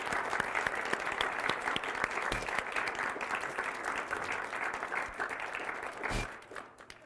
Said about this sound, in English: Let's just give a round of applause to all 5 of our writers.